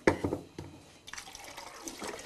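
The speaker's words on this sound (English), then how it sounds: "I'm going to pour the water into my" Water poured into a film developing tank splashes and gurgles in uneven bursts, with a few sharper clinks early on and then a softer, steady trickling fill, fairly quiet and close.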